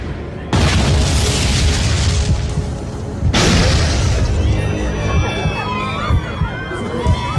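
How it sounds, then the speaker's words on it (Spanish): Two heavy booms shake a passenger airliner in flight, each a sudden loud blast followed by roaring rumble and rushing air, the second hitting a few seconds after the first, with shouting and alarm-like tones rising afterward. "Dos explosiones sacudían el avión."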